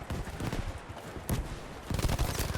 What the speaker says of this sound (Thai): ปืนกล MG ยืนยิงอย่างนี้เลยนะ